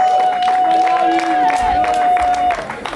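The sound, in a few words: audience applause for sponsors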